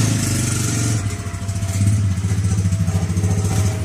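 An old motor tricycle's small engine runs steadily up close, a continuous throbbing drone with a rhythmic pulse that rises slightly partway through; no one speaks.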